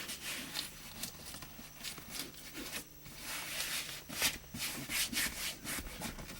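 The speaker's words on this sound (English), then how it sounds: "Rub it down good and flat." Tape is rubbed firmly down onto a fiberglass car kick panel, making close, repeated scraping and rubbing strokes in uneven bursts, moderately loud, with no talking.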